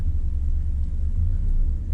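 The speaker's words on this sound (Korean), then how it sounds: "이제 운행해 보겠습니다" A 2012 Hyundai Avante MD 1.6 LPi car, a gas-fuelled compact with about 80,000 km, pulls away with a deep, steady low rumble heard from inside the cabin, with no talking.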